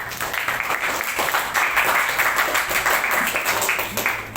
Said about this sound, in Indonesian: Tepuk tangan dulu untuk Clarissa.